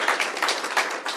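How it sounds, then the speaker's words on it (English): An audience at a governor's bill signing claps for State Senator June Robinson in brief, lively applause with a quick, uneven patter, and no talking over it. "Please give her a round of applause for her hard work this session"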